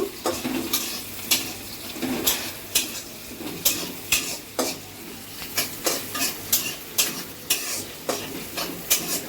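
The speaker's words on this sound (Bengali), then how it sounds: "মশলা কষাইতেছি, সাথে যে শুটকিও দিছি আমি" Spices and dried fish (shutki) fry in a pan while a spatula scrapes and knocks against the metal in a rhythmic beat, about once a second, over a faint sizzle.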